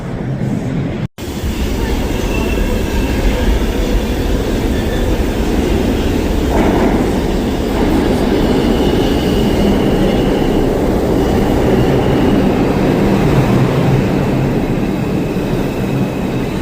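A New York City subway train rumbles loudly and steadily throughout, with a brief cutout near the start and faint squealing overtones riding above the roar.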